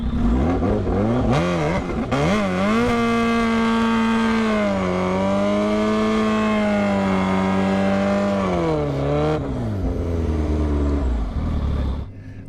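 A Rimac electric hypercar in a drag race gives a loud, continuous high-pitched motor whine that climbs and holds steady, then rises again before fading at the end.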